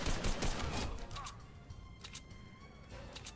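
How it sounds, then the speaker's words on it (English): Rapid bursts of video game gunfire from a bot during a duos match, crackling at moderate loudness with a dense volley at the start and scattered shots later. "that must be a bot shooting at me"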